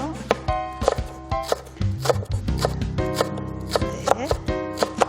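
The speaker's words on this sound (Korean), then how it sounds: "이렇게 접어서 채를 썰면은 잘 썰려요" A knife julienning green onion on a cutting board for a spicy whelk and fresh ginseng salad, struck in quick, fairly regular taps close by over a steady tonal background hum.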